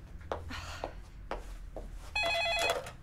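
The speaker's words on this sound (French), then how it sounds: "Téléphone, chérie, tu peux répondre." A telephone rings indoors, a short electronic trill burst near the end following a few soft knocks and household thuds, fairly close and unaccompanied by talk.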